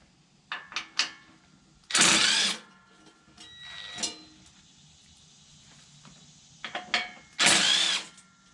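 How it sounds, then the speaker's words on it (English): Ratchet or power driver backing out half-inch bolts from an access plate on a Ferris Z3X mower, with short clicking bursts and two louder whirring runs separated by quiet pauses. "Next thing I'm going to do is take off this access plate, which is the 2 bolts"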